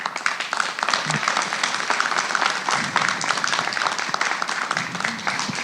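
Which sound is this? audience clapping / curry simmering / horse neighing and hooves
audience clapping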